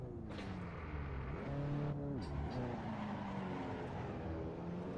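A VW Golf Mk4 R32 engine in the racing game Assetto Corsa drones at moderate volume, its pitch rising and dipping as it revs through gear changes, steady and continuous.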